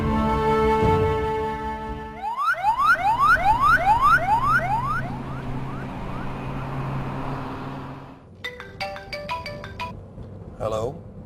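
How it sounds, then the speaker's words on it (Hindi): An ambulance siren sweeps up and down repeatedly amid music and background sound, followed by a few brief electronic tones near the end. "एम्बुलेंस।"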